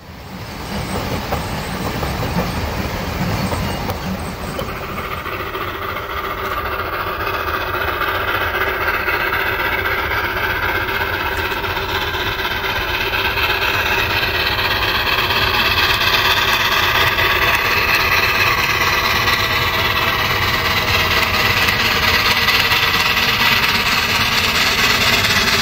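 South African two-foot gauge steam locomotive 124 pulls away on its journey toward Port Elizabeth, a steady, continuous rumble and hiss of engine and rolling stock that holds strong and even throughout, with no voices.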